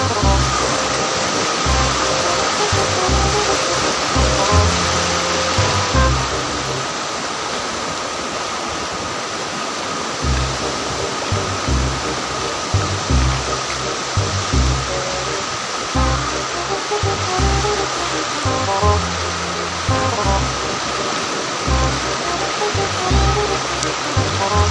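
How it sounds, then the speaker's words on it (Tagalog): Large ocean waves at Bagasbas Beach, a constant loud roar of breaking surf with rhythmic surges throughout, no talk audible over the noise. "Ayan ang malalaki yung alon dito."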